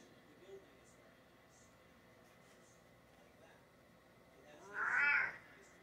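A pet cat lets out one clear, drawn-out meow near the end, close by in a quiet indoor room, after a stretch of soft background hiss.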